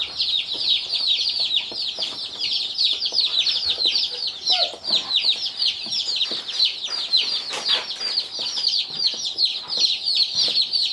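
Heritage meat chickens, a batch of mixed breeds including yellow chicks and Barred Rocks, raised on pasture, give dense continuous high peeping and clucking from many birds at once, close and steady throughout.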